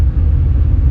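Tata Nano car engine running with a deep, steady low rumble, close and loud, with no talk.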